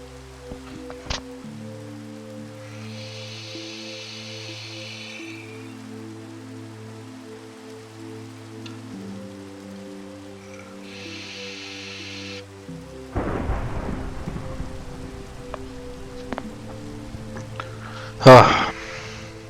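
Rain falls steadily in Minecraft while a deep rumble of thunder rolls in partway through, over a quiet background of game music and ambience.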